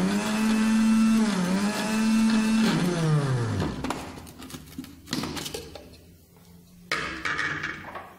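A machine grinds almonds with argan oil to make amlou. A loud, steady motor whine drops in pitch as it strains, then gives way to rattling, clattering grinding bursts up close.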